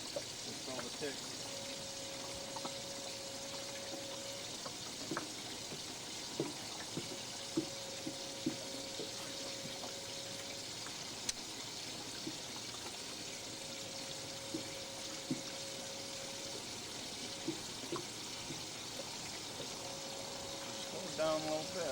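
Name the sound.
water running into a boat's livewell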